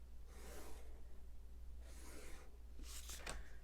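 A pencil drawing parallel lines on paper, with three separate scratchy strokes spaced about a second apart, close and quiet, the last ones quicker.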